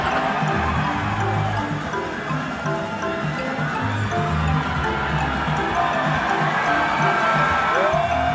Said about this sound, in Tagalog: sigawan ng mga tao at pati rin si Tito Tonyo ay napasigaw na rin